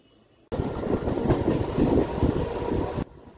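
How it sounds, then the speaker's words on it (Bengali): A Howrah–Katwa local train rolls along with a steady, fairly loud rumble and faint clacking of wheels, beginning abruptly and cutting off after about two and a half seconds. "আমি ধরেছি হাওড়া কাটোয়া লোকাল।"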